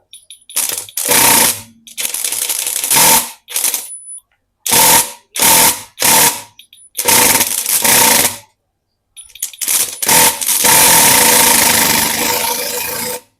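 An OSUKA OCID822U cordless impact driver runs in loosening mode, its motor and hammering mechanism buzzing loudly in repeated bursts of one to two seconds separated by short pauses, then holding for a longer sustained run at the end.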